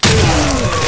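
A grenade explosion in STALKER: Call of Pripyat gives a loud, close, dense blast that fills the whole second with a deep rumble.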